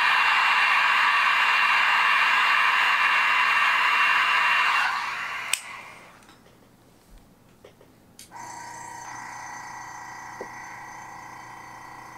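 A heat gun blows a steady, loud rushing roar while setting paint on a custom crankbait fishing lure, cutting off after about five seconds, followed by a quieter hiss and a couple of sharp clicks before the hum resumes at lower level.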